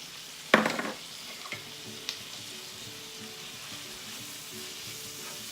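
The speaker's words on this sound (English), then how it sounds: "this is being sauteed" Chicken tikka masala sautéing in a pan as chopped tomatoes go in, a loud burst of sizzling at the start that settles into a steady, close crackle with occasional stirring clicks.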